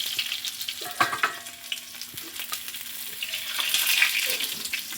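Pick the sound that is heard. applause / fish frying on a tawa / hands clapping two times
fish frying on a tawa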